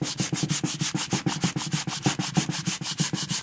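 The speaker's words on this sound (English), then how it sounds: "I'm going to sand right here on the corner because I want to get rid of that glue" Steady back-and-forth rasp of hand sanding with the grain on a wooden board corner to remove glue, quick even strokes repeating close up with no voices.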